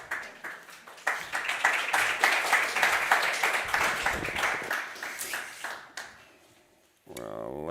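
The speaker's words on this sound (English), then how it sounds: "round of applause and a little souvenir" Round of applause from a conference audience at a vocational education event for the Baltic wood industry, dense sustained clapping that swells then fades over several seconds before a brief pause and a burst of talk.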